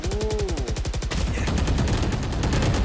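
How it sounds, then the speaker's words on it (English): Rapid gunfire in Valorant during a pro esports grand final, a fast rattling burst of repeated shots that thickens into continuous, close automatic fire after a brief higher whine. "Kind of walked into the gunfire there"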